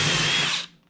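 Power drill boring straight through a Vespa scooter end cap during a 1967 Vespa electric conversion, one short high whine that cuts off abruptly.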